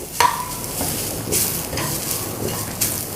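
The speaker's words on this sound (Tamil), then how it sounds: "ஒரு 2 நிமிஷத்துக்கு ரவை உடைய பச்சை வாடை போகிற அளவுக்கு நம்ம வறுத்துக்கிடுவோம்" Semolina (rava) dry-roasts in a pan on the stove while being stirred, giving soft scraping and a light sizzling rustle, with a sharp clink near the start and a few more utensil scrapes.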